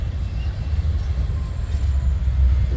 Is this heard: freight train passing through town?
yes